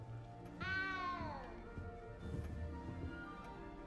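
A clear, close cat meow sounds once, long and bending downward, followed by quieter ambient game sounds, from a cat in the video game Hogwarts Legacy.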